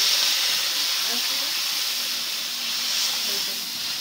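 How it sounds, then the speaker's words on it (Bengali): Water poured into a hot pan of sizzling ginger and spices for a Bengali fish curry gives a steady hiss and steam that holds for the whole stretch, close and fairly loud. "এবারে জল ঢেলে দেবো"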